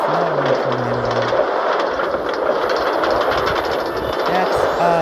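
A Minecraft metro train runs along its rails in the video game, making a continuous rolling rumble with faint rhythmic clatter and low tonal hums, steady throughout.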